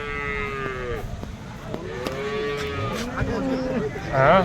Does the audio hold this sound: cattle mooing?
yes